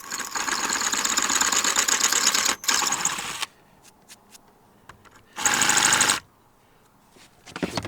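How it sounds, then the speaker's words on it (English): A drill countersinks screw holes in the pool coping of a skateboard mini ramp. Two loud whirring bursts of a few seconds each are separated by quieter ticks and short taps, with no voices. "next step is to countersink so the head doesn't stick out"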